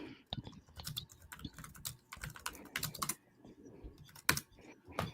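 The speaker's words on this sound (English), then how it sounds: "What are you typing?" Someone types on a computer keyboard with quick, uneven clacks and key taps in irregular bursts, close but quiet, with no talking.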